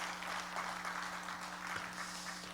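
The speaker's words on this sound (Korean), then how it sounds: "우리 하나님께 영광의 박수 드리겠습니다" A church congregation claps together after a prayer in a worship service: a soft, steady wash of applause is heard from a distance, with a low electrical hum underneath.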